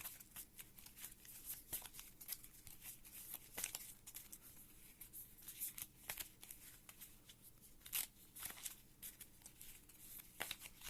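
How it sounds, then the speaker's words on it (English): A hand of Pokemon trading cards being shuffled, quiet rapid riffling and sliding with irregular bursts of crisp card flicks, close and alone, continuing for about eleven seconds. "We're going to have to shuffle Team Lunatone's hand as well."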